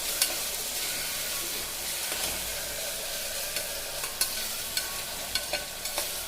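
Ginger garlic paste frying with tomatoes for millet kichadi, a steady sizzle broken by a series of sharp spoon scrapes and taps against the pan, growing more frequent toward the end, no talking.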